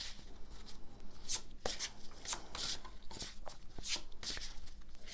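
Oracle cards shuffled by hand, a run of soft papery riffles and slides repeating close up, with light rubbing between passes and no talk over it.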